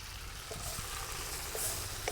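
Vegetables frying in a pan as crushed peanuts are tipped in, a constant close sizzle with a few light stirring scrapes and taps.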